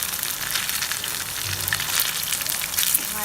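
Kebab patties fry in a pan of hot oil with a steady, close crackling sizzle and a few brighter pops, and no one speaks.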